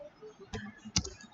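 A computer keyboard clicks as text is typed into MS Word, two or three sharp, close keystrokes spaced apart, with quiet room tone between them.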